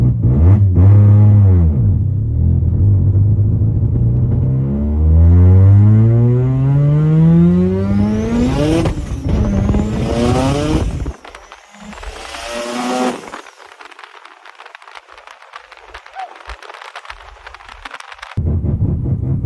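A Mazda RX-7 FD3S with a high-power 13B rotary engine, GR700A six-speed transmission and Haltech engine management revs hard several times in loud, close rising sweeps, then drops back to a rough, lumpy idle.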